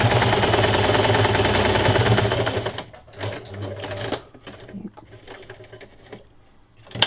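A sewing machine runs steadily for about three seconds, stitching a straight seam on a fabric face mask, then stops and gives way to quieter handling sounds and short bursts as the fabric is adjusted.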